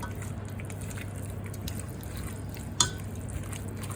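Tunisian-style beans stirred in a pot of boiling water on an induction hob, soft wet swishing with a low steady hum and one sharp clink of utensil against pot near the end.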